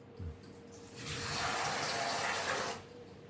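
Tap water runs over a cup of green peas being rinsed, a soft gushing splash that rises after a brief knock, holds steady for under two seconds, then cuts off.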